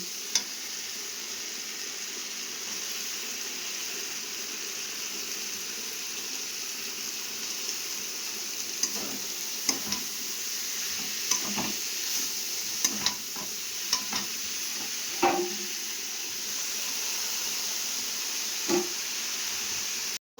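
Cabbage frying in spice masala with a steady low sizzle, interrupted by scattered scraping taps of a spatula as it is stirred, fairly quiet and continuous with no talking.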